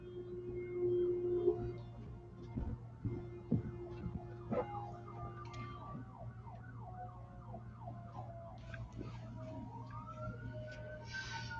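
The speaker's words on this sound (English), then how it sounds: "here comes my favorite siren" An emergency siren wails steadily at middle distance, its rising and falling tone repeating over a constant low hum and faint room noise, with no voices.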